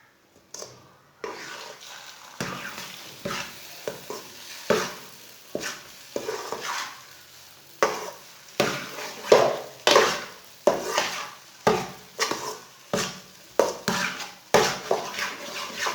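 A spoon stirs egg halwa in a pan in repeated scraping strokes, each one a rhythmic swell of scraping against the metal over a low sizzle. It sounds close, with no talk.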